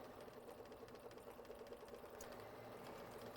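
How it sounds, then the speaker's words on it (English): A Bernina embroidery sewing machine stitches out a design, its needle chattering in a fast, even rhythm, quiet and close, running steadily without pause. "So we've got this sewing machine going, and it's almost done with this color here."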